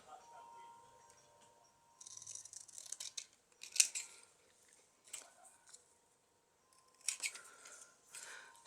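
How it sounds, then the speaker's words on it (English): Scissors snip paper to fit a travel journal in several short bursts of close, crisp cutting, separated by quiet pauses and a few soft handling sounds. "just cut this one to fit."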